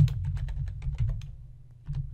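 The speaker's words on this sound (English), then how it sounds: "I hit the Enter key." Computer keyboard keys typed in a quick run of close, crisp clicks, then a pause and a final key press, with no voices.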